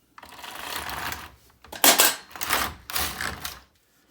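A double bed knitting machine's carriage is pushed across to knit a row, giving a raspy mechanical clatter in several close, loud passes with short pauses between them.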